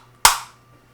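Sharp, loud single snap as the tight resin door of a Vicious Ant Spade SX485J mod is pushed back into place, with a short decaying tail and quiet around it.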